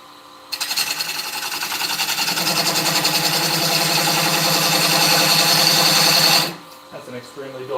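A wood lathe spins an eccentric bowl blank while a dull gouge cuts it, making a loud, rapid, hammering chatter. The chatter holds steady for about six seconds, then stops abruptly.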